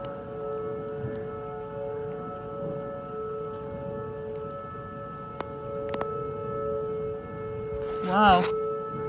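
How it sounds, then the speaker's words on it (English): A civil defense tornado siren wails steadily during a hail and rain storm in Chicago, its drawn-out tone held over constant rain patter, with a brief louder rise near the end. "Tornado siren. An actual one."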